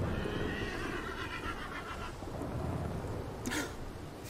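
A spooked horse whinnies in the RedM game, with a long neigh early on amid rumbling thunder and rain, plus a second sharp burst near the end.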